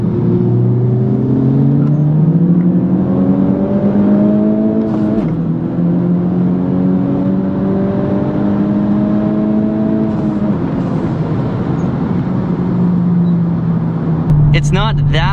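A Honda Civic Type R engine pulls at full throttle, its close, moderately loud note climbing in pitch through two long gear runs before settling, with a brief rattle near the end.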